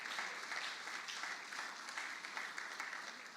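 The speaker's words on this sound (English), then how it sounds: "Please appreciate him with a round of applause." A crowd at a national conference claps steadily for a few seconds, a dense wash of applause heard from some distance with no voices over it.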